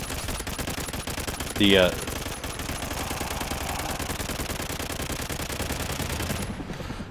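Continuous automatic gunfire in Call of Duty: Ghosts, a dense rattling stream of shots holding steady for several seconds, with a brief spoken word early on and a sharp tonal blip near the start.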